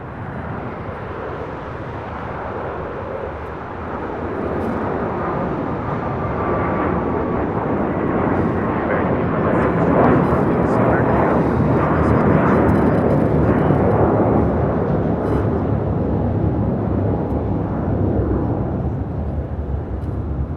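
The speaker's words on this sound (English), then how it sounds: "That was American Airlines Flight 2 heading to JFK and then A321." An American Airlines A321 departing LAX for JFK gives a broad, roaring jet rumble that swells after a few seconds and holds loud and steady throughout.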